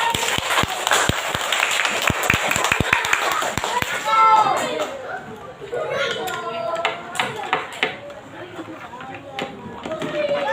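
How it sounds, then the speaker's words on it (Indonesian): Children in a classroom clap for Joseph in a quick burst of brisk, scattered claps lasting a few seconds, then a teacher talks as the room settles into chatter. "Kasih tepuk tangan yuk ke Joseph."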